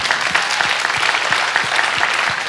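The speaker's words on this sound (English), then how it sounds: "Let's clap for that." Audience applause at a church gathering, a dense steady clapping from a crowd that holds at an even level for the whole stretch.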